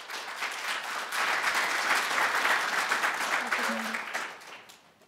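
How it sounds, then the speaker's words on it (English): A conference audience gives warm applause for a speaker at a session on housing and dementia, steady clapping that swells and then fades out toward the end, with a voice faintly underneath. "So a warm applause for Leonie"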